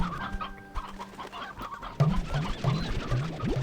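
Hens cluck in Slime Rancher 2, with several short, close clucks in an irregular rhythm following a steadier tonal game sound at the start.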